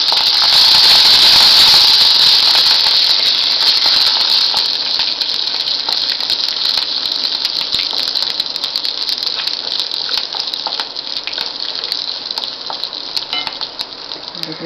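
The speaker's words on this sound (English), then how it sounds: "I am putting now the curry leaves and the green chili." Curry leaves and green chili sizzling in a hot pan, a loud steady hissing fry close up that gradually settles slightly, with faint clinks.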